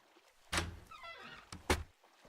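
Two heavy door thuds in the Minetest video game, a realistic-looking door opening and shutting, each a single dull knock about a second apart in an otherwise quiet room.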